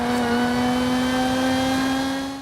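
A Lotus supercharged 3.5-litre V6 revs hard in Forza Horizon 5, a loud, steady engine whine with strong harmonics that holds at high pitch throughout, close and alone.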